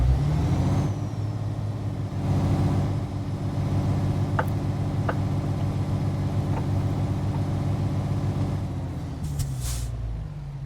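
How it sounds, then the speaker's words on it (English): A truck in Euro Truck Simulator 2 rumbles to a stop on the handbrake, its engine droning steadily throughout with a few short air-brake hisses, and a louder release of air near the end. "That was stopping on the handbrake."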